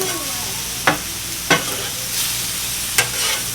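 Shrimp and chicken sizzle with butter on a hibachi grill, a steady close hiss broken by three sharp scraping clacks of a spatula, with no talking.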